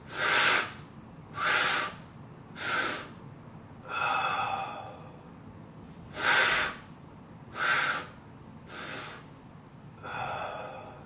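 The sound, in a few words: breathing exercise, inhaling and exhaling through the mouth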